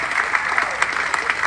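Audience applause at a shipboard Q&A event, a dense steady clatter of many hands clapping at once, loud and sustained with no pauses.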